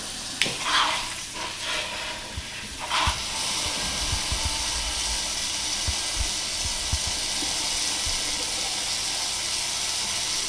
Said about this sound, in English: is fill this with water.